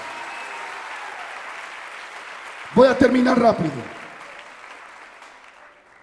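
Congregation applause in a church during a sermon, a broad steady wash of clapping that fades gradually, with a preacher's voice briefly speaking over it midway.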